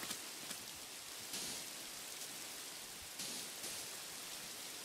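Rain in a video game falls as a steady, soft hiss of dense droplets, faint and continuous with slight swells, and no one speaks.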